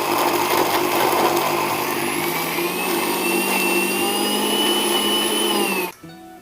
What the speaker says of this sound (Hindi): एक बार हमने मिक्सी को चलाया है